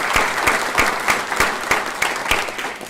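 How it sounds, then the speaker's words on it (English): Attendees at a school district board meeting give Officer Phillips a hearty round of applause, with steady, rhythmic clapping from a room of people and no talking. "we would like to do that with a hearty round of applause"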